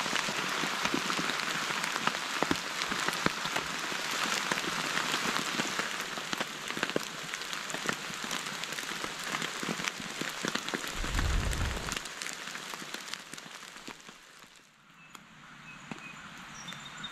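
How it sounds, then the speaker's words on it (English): Rain falls steadily all night on a Teton Sports Mountain Ultra 1 tent, a dense continuous patter of drops on the fabric, easing slightly near the end, with no voices. "It rained all night long. In fact, it's still raining."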